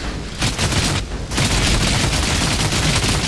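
Gunfire in the Outriders video game, a dense, loud burst of rapid shots with a brief gap near one second before the firing resumes and continues steadily.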